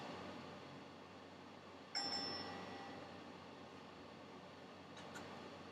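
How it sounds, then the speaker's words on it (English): A game show bell on The Price Is Right gives a single short ding about two seconds in, faint over a quiet, steady hum in the background, with no talking. "Not really the bell that I was intending to ring, but that does indicate, at least for this instance, that she did have at least one number right"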